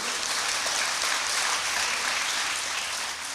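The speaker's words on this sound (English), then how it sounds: "clap for that" Audience applause during a talk on the Gospel of the family, a continuous, even roar of many hands clapping, moderately loud and unbroken for a few seconds.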